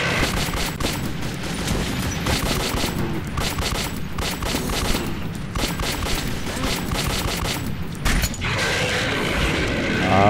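Dense, continuous gunfire in the video game Metro 2033 fills the clip, rapid bursts and booms layered together with a brief lull near the end.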